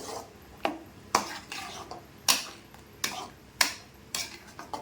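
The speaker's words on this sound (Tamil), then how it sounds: "இப்போ நல்லா கலக்கி விட்டுட்டு" Scraping and clinking of a spoon against a metal pot of mango curry, in irregular strokes roughly every half second, close and fairly quiet.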